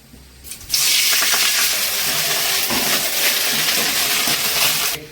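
Fresh moringa leaves go into a little hot oil in a pan for a kadayal dish, setting off a sudden loud sizzle that holds steady for about four seconds before cutting off.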